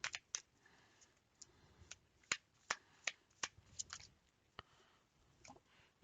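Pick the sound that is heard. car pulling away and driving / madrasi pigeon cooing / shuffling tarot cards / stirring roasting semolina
shuffling tarot cards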